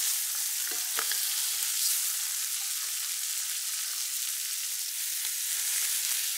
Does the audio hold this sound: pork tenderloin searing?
yes